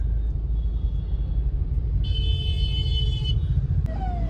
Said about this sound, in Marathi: आज पण ट्रॅफिक मध्ये अडकलोय.